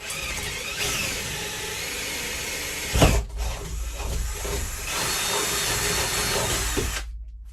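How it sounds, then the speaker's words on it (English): A power drill grinds steadily through a door while fitting a Blusafe Breeze smart lock, a loud continuous whine with a brief jolt partway through, then cuts off abruptly near the end. "we're going to just slowly start drilling through the door"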